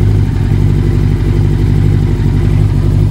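A Yamaha Thunderace YZF1000 motorcycle with a 1000cc engine runs loud and close, holding a steady, deep idle rumble with a faint clattery edge throughout.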